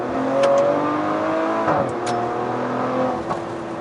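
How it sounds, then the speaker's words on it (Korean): A Maserati Levante SQ4 SUV in sport mode sends out a raspy, rising exhaust note as it revs and accelerates, loud and close, with brief crackles between gear changes. "상당히 자극적인 배기음을 들려주는데요"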